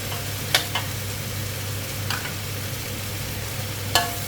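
Mushrooms and squid stir-fried in a pan with a steady close sizzle, broken by a few sharp scrapes and clinks of the utensil against the metal.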